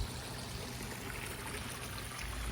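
A backyard pond pump's outlet pours water back into the pond, a steady close splashing trickle that fills the short stretch without pause.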